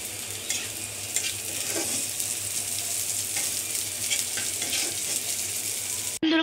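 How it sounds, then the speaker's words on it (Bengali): Bottle gourd peel stir-fries with chopped onion and green chili in a hot pan, a loud, continuous close sizzle with soft stirring scrapes, cut off abruptly near the end. "এর মধ্যে এখন আমরা দিয়ে দিব পেঁয়াজ কুচো এবং কাঁচামরিচ কুচো দিয়ে কিন্তু ভালো করে নাড়াচাড়া করে ভাজি করে নিতে হবে"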